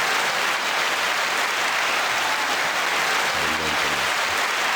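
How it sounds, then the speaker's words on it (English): Sustained, even applause for a rapper guest on a talk show, a steady wash of clapping with a brief low voice murmuring underneath near the end. "9-second applause."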